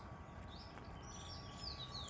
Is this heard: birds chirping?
yes